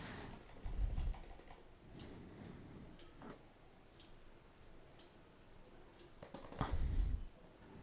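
Quiet clicking of computer keyboard keys while code is typed, in short bursts of taps with pauses between, faint and close.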